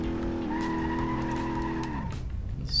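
Tires squeal in a long sustained skid as a 1969 Dodge Daytona spins out in the driving game BeamNG Drive, the tone dropping as the slide ends, followed by lighter road noise.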